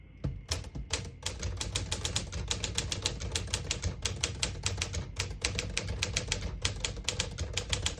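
Rapid, steady clacking of the keys of a 1956 Smith-Corona Silent-Super vintage portable typewriter, close and crisp, continuing without pause across the whole stretch.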